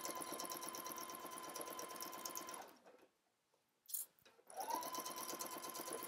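A sewing machine stitches a dress skirt pocket with a steady rapid chatter, pauses briefly, then resumes back stitching at the end, close and alone.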